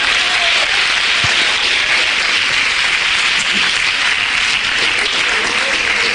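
A church congregation applauds loudly during a worship service, a dense, unbroken wash of many hands clapping that holds steady for several seconds, with a few scattered voices and a cheer mixed into the crowd.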